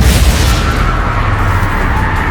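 A Confringo explosive spell blast in the Hogwarts Legacy video game, a loud, sustained booming roar filling the whole moment without a break.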